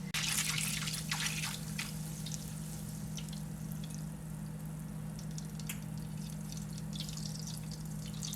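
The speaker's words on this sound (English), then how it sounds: "there will be sizzling and bubbling, how it is doing here" Butter browning in a pan sizzles and bubbles, a steady crackling hiss with scattered pops, close and moderately loud throughout.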